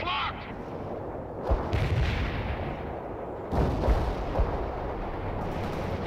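Tank cannon fire in the World in Conflict video game: dense, continuous battle noise with heavy booming shots around 1.5 s, 3.5 s and 4.4 s, loud and close.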